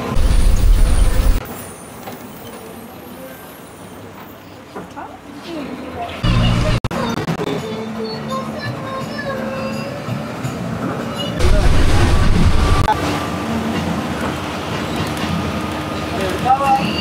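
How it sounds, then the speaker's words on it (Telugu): A bus and a lorry labour along a rough forest road between Athirappilly and Valparai via Malakkappara, giving a loud, continuous engine rumble with heavier bursts and a hiss like air brakes, while someone talks over the noise. "మా బస్సు వెళ్తుంది, లారీ ఓవర్ వెనక్కి వెళ్తుంది అనమాట."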